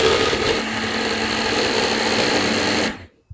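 An electric hand mixer whips two egg whites for marshmallow fluff, whirring steadily at high speed for a few seconds, loud and close, then switches off.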